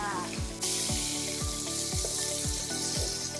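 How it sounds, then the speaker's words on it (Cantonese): Shrimp sizzle hard in a hot wok while a spatula scrapes and tosses them in a regular rhythm, about two strokes a second, with the frying hiss rising sharply partway through. "就爆香晒啲蝦佢先"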